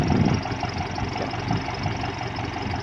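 A tractor engine driving a water pump for drip irrigation runs steadily at a constant pace, loud and close, with a slight knocking beat and no talking.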